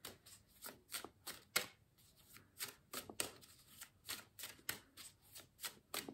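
Oracle cards being shuffled, close and soft: a long run of quick, crisp riffling flicks in an uneven rhythm, with no voice over them.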